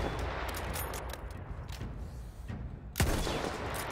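Battlefield 1 gunfire with a sharp, loud sniper rifle crack near the end, standing out above a busy wash of distant battlefield shots and rumble.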